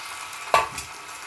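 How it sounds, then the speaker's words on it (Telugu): Chana dal, urad dal, mustard seeds and cumin fry in oil for a raw banana stir-fry, giving a faint low sizzle with one sharp stir or clink, close and without speech. "శనగపప్పు, మినపప్పు వేసానండి. దాంట్లో ఆవాలు, జీలకర్ర వేసానండి."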